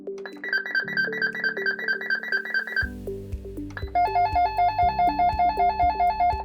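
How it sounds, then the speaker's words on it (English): An Urmet Miro audio handset monitor plays through its ringtones one after another, bright electronic beeping melodies with a repeating rhythm, the pattern changing partway through as the next tone starts, clear and close with no talking. "press button 2 every time you want to hear one of the 5 ringtones"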